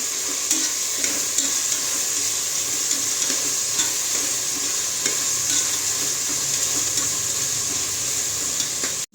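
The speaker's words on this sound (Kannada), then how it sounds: "ಟೊಮೆಟೊ ಈರುಳ್ಳಿ ಎರಡು ಚೆನ್ನಾಗಿ ಬೇಯೋವರೆಗೂ ಬಿಡಬೇಕು" Chopped tomato and onion frying in a pan for tomato bath, a loud, steady sizzle and hiss with occasional light stirring scrapes, continuing without pause.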